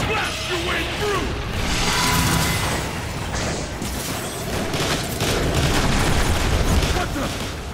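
Heavy sci-fi gunfire and metallic impacts from the video game Transformers: War for Cybertron, a dense, continuous barrage with booms and clanks, loud throughout and mixed with a game soundtrack and voices.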